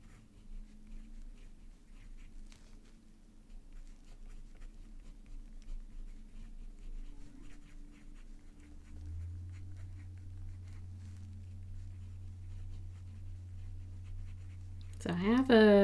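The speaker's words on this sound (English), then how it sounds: "For a stock broad nib, this writes really nicely." Broad-nib Benu Pixie fountain pen writing on paper, a faint steady scratch under a low background hum, with a louder burst of talking at the very end.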